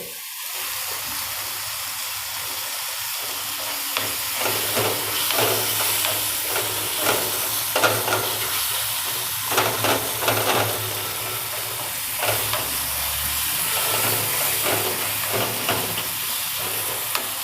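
Gogdi tomato curry with red chilli sizzles and hisses steadily in a pan while cooking, a continuous frying crackle with occasional soft stirring scrapes throughout.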